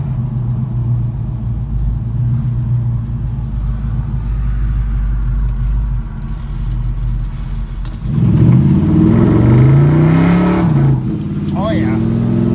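Small-block Chevy V8 with a Flowmaster Hushpower HP-2 muffler, running slightly lean, idles with a steady low rumble, then revs up sharply before settling back to a loud, close idle.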